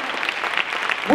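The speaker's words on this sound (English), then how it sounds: "We need to give God a hand clap for this praise team right now." A church congregation claps for the praise team, steady dense applause filling the room throughout.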